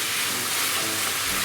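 XO sauce, about half a teaspoon, stir-fried in a pan, giving a steady, close sizzling hiss that stays even and continuous.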